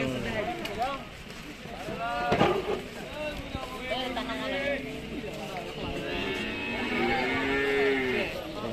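Cattle at a busy livestock market moo and low repeatedly, several animals calling near and far over crowd chatter and general market bustle.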